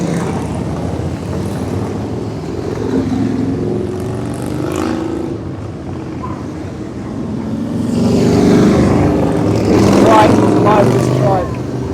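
Harley-Davidson motorcycles roll past in a steady stream at a 2024 rally in Baildon. Their engines make a continuous low rumble that swells louder toward the end, with voices mixed into the crowd noise.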